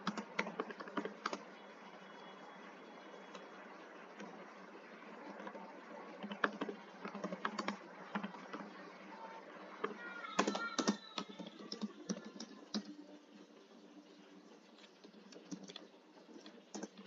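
Keyboard typing on a computer while a spam message is entered, with irregular bursts of quick key clicks spread across the whole stretch and a faint voice at times.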